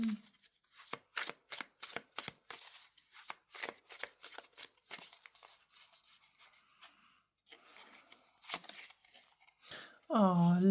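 Tarot cards shuffled by hand, a rapid series of sharp riffling bursts in a steady rhythm, close and distinct, followed by a softer rustle before a voice speaks at the end.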